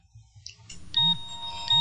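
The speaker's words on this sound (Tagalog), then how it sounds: "Paano nagaring ang cellphone ngayon na kaya wala ina siyang SIM card?" A mobile phone with no SIM card rings, sounding as thin electronic beeps and tones that start faint and grow into steadier, louder ringing, heard alone without talk.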